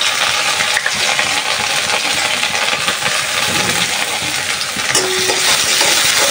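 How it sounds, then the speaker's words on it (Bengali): Chopped garlic and onion hit hot oil in a radish greens tempering, giving a loud, dense, continuous sizzle and crackle with occasional clinks of a utensil against the pan. "রসুন কুচি আর পেঁয়াজ কুচি দিয়ে দিই মূলা শাকের বাগারের মধ্যে।"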